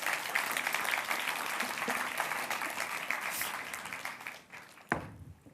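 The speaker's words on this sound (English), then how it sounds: "Big round of applause, please" Applause at the European Youth Award Gala as the Centre of Modern Languages director is called to the stage: a dense, steady roar of clapping that thins toward the end, with a single sharp knock near the close.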